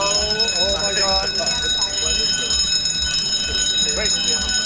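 A fire and life-safety alarm system under test sounds a steady, loud electronic tone with high ringing pitches, continuous throughout, while people shout and talk over it outdoors at Burning Man.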